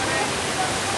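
Three-tier waterfall at Dabanggre village in West Garo Hills, Meghalaya, giving off a steady, dense broadband roar of falling water that stays constant and close throughout the brief moment, with no pause or change.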